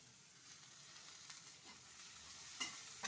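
Green beans frying in a pan with salt, turmeric and chili powder, a soft steady sizzle with faint stirring scrapes, quiet and continuous with no voices.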